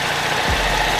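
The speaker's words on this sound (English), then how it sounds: "the car is running on its own power" A rebuilt Cadillac engine idles under its own power, a steady close hum with a brief low thump midway through the short moment, and no speech.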